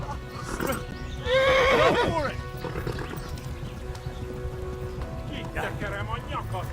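A horse in the medieval video game Kingdom Come: Deliverance whinnies loudly once, with clip-clop hooves and a second shorter neigh later, while someone talks over the game sounds.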